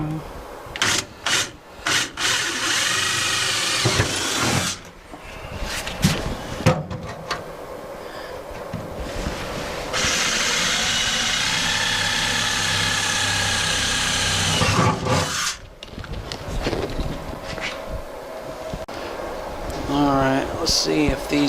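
A power drill bores holes in metal on a Ford Galaxie, coming in loud sustained bursts broken by handling noises, with someone talking between runs.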